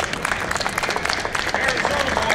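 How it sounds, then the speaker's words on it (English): Audience applause at an evening event, a dense steady wash of clapping filling the room, with voices mixed in underneath throughout. "big applause for Snuff,"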